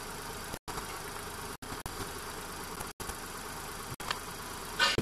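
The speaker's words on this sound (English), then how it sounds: "while we're waiting for the engine to warm up" Hyundai Eon car engine idles while warming up during a valve cover gasket replacement, a steady low rumble heard close, with a few abrupt brief dropouts and a faint clink near the end.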